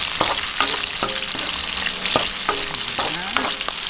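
Onions frying in oil for a salt-based adobo make a loud, close, continuous sizzle, with repeated sharp scraping and stirring knocks from a utensil in the pan.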